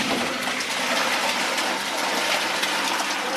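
Feta cheese curds and whey pour steadily into a draining basket set inside a column, a loud continuous close-up gush of liquid with no pauses.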